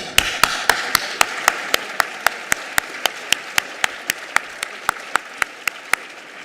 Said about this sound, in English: please join me in giving yourselves a round of applause